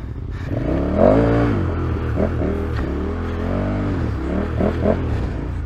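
KTM 1290 Super Adventure S motorcycle engine working hard on a muddy festival track, steady close revving with rising and falling pitch sweeps as the throttle is blipped, alone with no talking.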